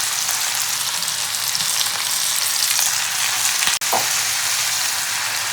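Chopped tomatoes go into a hot frying pan of shrimp and onion flowers, setting off a loud, even crackling sizzle that runs throughout, with one sharp clack of a utensil partway through.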